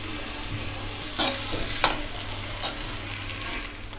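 Steady, close sizzling of soaked dried Bombay duck fish frying in a pan, with a few sharp scraping clicks as it is stirred.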